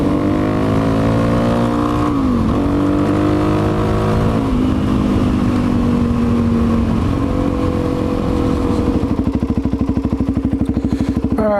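A motorcycle rides along a road in a steady engine drone with shifting pitch as it changes gear, close and loud under rushing wind, with a pulsing rev rising near the end.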